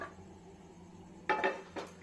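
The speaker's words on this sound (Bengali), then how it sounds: "এবার এখানে সুন্দর একটা ফ্রাই প্যান বসিয়ে দেবো" A metal frying pan is set down on a stove in a home kitchen, producing two or three quick, faint clanks near the end after a quiet stretch.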